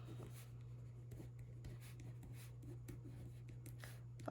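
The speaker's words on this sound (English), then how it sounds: "I'll just write it real quick here" Pen scratching out measurements on Whisper White cardstock, faint and close, in short irregular strokes over a steady low hum.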